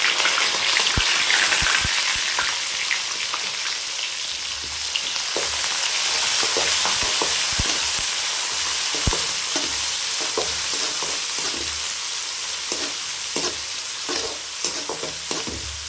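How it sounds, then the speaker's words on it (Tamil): Mustard seeds, urad dal, curry leaves, green chilli and small shallots fry in hot oil for a village-style goat intestine fry, a steady loud sizzle with scattered popping crackles and occasional stirring, no voices. "கடுகு, உளுத்தம் பருப்பு, கருவேப்பிலை சேர்த்துக்கலாம். பச்சை மிளகா, சின்ன வெங்காயம் சேர்த்துக்கலாம்."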